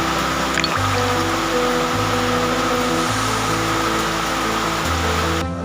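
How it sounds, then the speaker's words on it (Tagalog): Heavy rain falling steadily during a flood in the Philippines, a dense continuous hiss and patter close by with a low droning hum underneath, with no voices. "Kaso lang ulan na naman, oh."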